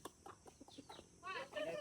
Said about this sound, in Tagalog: Yan po ang kanyang mga manok ko.